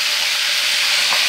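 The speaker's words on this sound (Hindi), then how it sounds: "ये अभी घी गर्म हो रहा है। ये देसी घी है सऊदी अरेबिया में।" Desi ghee heating in a pan gives off a steady, close, hissing sizzle with no break, and no one speaks over it.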